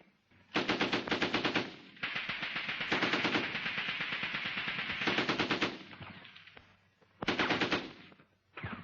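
A machine gun fires five long bursts in a military infantry attack setting, each a loud, rapid rattle separated by brief pauses, with no talking.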